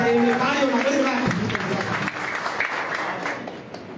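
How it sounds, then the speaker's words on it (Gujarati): Applause from a crowd at a political party rally in Keshod, welcoming a new member, breaking out loudly and then fading over a few seconds, with a voice speaking over the start. "ત્યારે એમને તાળીઓના ગણગડાટ."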